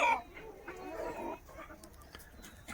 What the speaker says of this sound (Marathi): हा जो तुमच्या समोर जो कोंबड्यांचा स्टॉक दिसतो हा पॅरेंट स्टॉक आहे